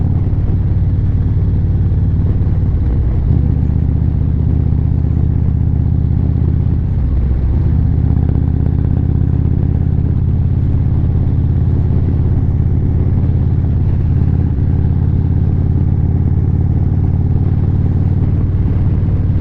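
A motorcycle engine rumbles steadily and loudly throughout a short ride to the post office, with small shifts in pitch as the rider changes speed.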